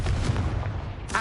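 A Confringo blast spell fires in a Harry Potter video game: a loud, booming explosive rumble that holds steady for about a second, then breaks into a sharper burst at the end.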